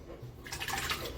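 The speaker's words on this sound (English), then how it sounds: "Fill your sink with a little hot water" Hot water runs into a kitchen sink with a steady, close gushing splash that swells after a brief quiet start.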